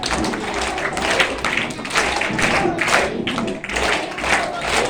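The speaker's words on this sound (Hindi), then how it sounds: "चलिए एक बार बजाएंगे, ताली शुरू कर।" A Republic Day audience at a school in Muni ki Reti, Rishikesh, claps along in a group rhythm, a dense crowd of hands sounding steadily and loudly throughout with some voices mixed in.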